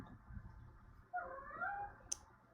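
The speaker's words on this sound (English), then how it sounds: "my daughter's kitty cat is a little nervous because of the rain" A nervous house cat gives one faint, rising-and-falling meow indoors while rain keeps it on edge, with a quiet background before and after the call.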